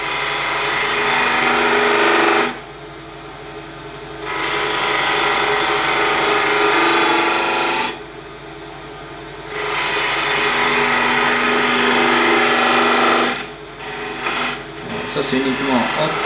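Wood spinning on a lathe is shaved with a plane tool in long, steady rasping passes, separated by brief pauses as the cut lifts off, loud and close.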